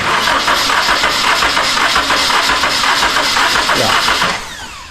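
First-generation Honda CR-V engine cranking over during a compression test, a loud rhythmic churning of the starter turning the engine for several seconds before it winds down and stops.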